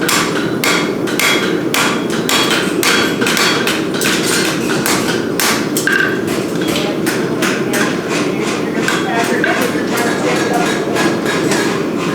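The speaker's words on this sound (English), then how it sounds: "How long have you been shoeing horses for, Wyatt?" A farrier hammers while shoeing a horse, giving a steady stream of rapid, sharp metallic strikes, loud and close, over continuous background noise.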